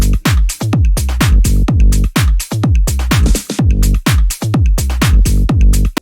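Modern tech house groove without vocals, built from a punchy four-on-the-floor kick, a pitched tom bass line and sidechained pads, pumping loudly and steadily from start to finish.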